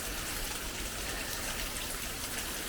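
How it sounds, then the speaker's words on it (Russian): Dense, steady rush of water at the foot of La Chorrera, Colombia's tallest waterfall at 590 meters, a close, continuous broadband roar like heavy rain. "Мы пришли уже к самому подножью этого водопада."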